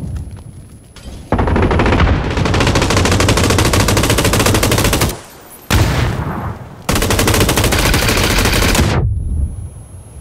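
Automatic gunfire in PlayerUnknown's Battlegrounds: long, loud, rapid bursts of shots, broken by two brief pauses, close and dominant over the game's background.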